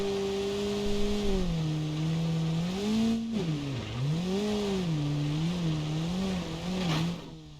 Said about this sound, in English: Do some drifting through the turns here